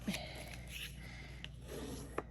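White cardstock card base, 8.5 by 5.5 inches, scored at 4 1/4 with a tool, giving soft rubbing and scraping strokes with a few sharp clicks, close up and quiet.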